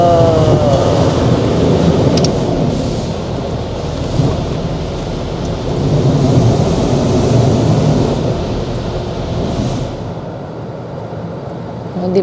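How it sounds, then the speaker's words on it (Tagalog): Water spraying over a car inside an automatic car wash: a loud, continuous rushing hiss and roar that swells and eases slightly, with faint muffled voices inside the car. "Isang sabak pa ng tubig."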